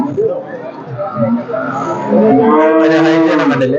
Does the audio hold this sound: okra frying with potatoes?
no